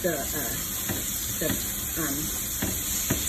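Peppers and onions sizzling in butter in a pan, a constant bright hiss throughout with a person talking over it.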